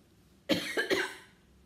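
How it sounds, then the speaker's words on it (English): Someone nearby coughs three times in quick succession, sharp and dry, after a moment of quiet. "when I talk, my throat starts to dry and I cough."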